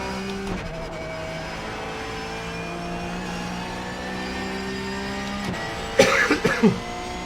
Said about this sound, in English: Pardon me, still got that cough.